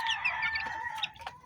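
Chickens cluck and squawk close by in a short burst of fowl calls, from laying hens kept with newly hatched chicks.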